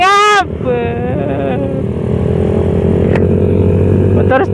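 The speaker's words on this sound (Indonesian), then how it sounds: "Motor standar jangan dimacem-macemin lah." A stock Suzuki Raider 125 motorcycle engine drones steadily and close during a Sunday morning group ride, with a short voice at the start.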